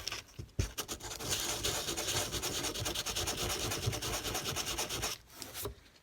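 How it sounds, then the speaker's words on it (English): Sandpaper rubbing the top of a hole in a control panel for an HO scale train layout, a close, steady scratchy back-and-forth rasping that runs for several seconds between a few brief taps. "Sand down the top of this hole."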